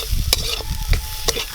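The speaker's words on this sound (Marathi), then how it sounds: "आता आपण याला चांगला भाजून घेऊया" Masala is stirred and fried in hot oil in a kadai for a village-style chicken rassa, with a soft sizzle under several sharp, scraping spoon strokes.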